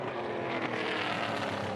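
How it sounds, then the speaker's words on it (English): A Holden V8 touring car races at Queensland Raceway, its engine a steady, broadband roar at a moderate distance as it heads toward a corner. "The SCT Logistics Holden heading down to turn number 3 for the final time"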